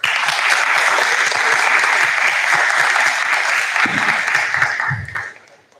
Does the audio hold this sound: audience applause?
yes